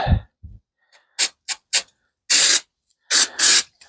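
A CA glue activator is sprayed in several short hissing bursts, some quick and some longer, loud and close with silent gaps between them, after a soft knock at the start.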